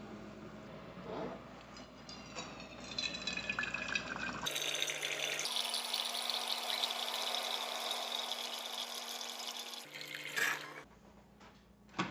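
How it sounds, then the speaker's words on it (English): A Keurig coffee maker dispenses water into Stanley mugs, a steady pouring stream that starts and stops between fills, loud and close with faint background hum and no talk. "I'm going to fill each of them up with the same amount of water from our Keurig"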